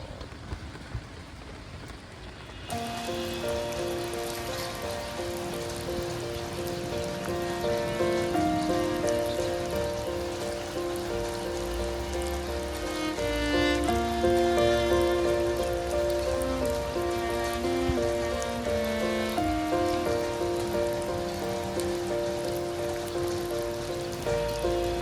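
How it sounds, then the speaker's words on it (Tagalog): Heavy rain falls steadily outside a camping minivan at night, a dense, constant patter drumming on the surface throughout, with a continuous musical tone running underneath. "Magdamag na hindi tumigil ang ulan."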